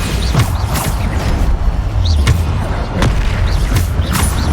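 Bombarda spell blasts in the video game Hogwarts Legacy, a rapid series of loud booming impacts and whooshes about every half second, with a voice calling out spell names over them.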